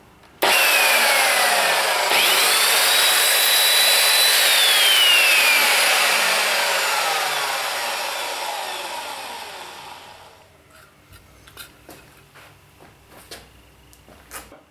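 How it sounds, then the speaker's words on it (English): An Evolution Fury 3-S saw runs loud and steady for about ten seconds making successive kerf-width cuts in waste wood, then winds down and fades, leaving faint small knocks and taps. "make successive cuts that are about the kerth width of the blade"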